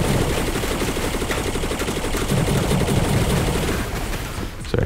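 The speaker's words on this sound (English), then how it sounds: "Its secondary fire are just a bunch of fire rockets. And you can shoot them independently." Plasma rifle secondary-fire rockets in the video game Slingshot Protocol crackle in a dense, rapid, continuous barrage, loud and close, with a few sharper bursts near the end.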